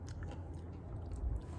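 Crunchy keto brown butter bites topped with bacon being chewed close up, soft, quiet crunching and mastication with no talking.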